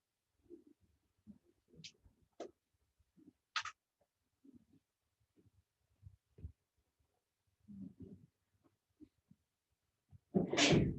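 A single loud, sudden sneeze bursts out at the end after a stretch of quiet rustling, small taps and shuffling in a classroom.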